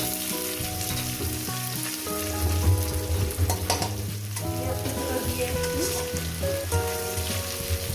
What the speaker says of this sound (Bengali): দিয়ে দেবো পেঁয়াজ কুচি দিয়ে